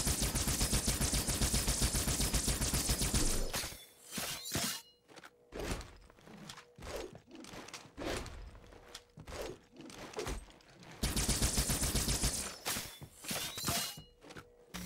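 Needler weapon firing in Halo 4, a rapid burst of sharp crystalline shots in a few separate bursts, with dense loud firing at the start and end and a sparser stretch of spaced pops in between.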